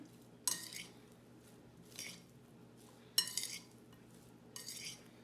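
A utensil stirring salt and pepper through potato salad in a bowl, heard as a few separate scraping, clinking strokes about a second apart, quiet and close, with no talking.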